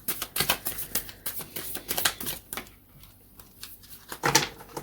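Tarot cards being shuffled by hand: quick, light papery riffles and taps arrive in irregular bursts, close and fairly soft, with a brief pause in the middle and no voices.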